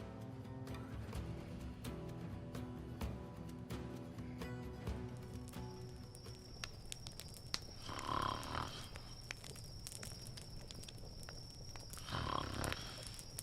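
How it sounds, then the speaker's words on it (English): Snoring from a sleeping character in the fantasy game The Vale: two swelling breathy snores, around eight and twelve seconds in, rising out of a steady bed of ambient music. "She snores worse than you."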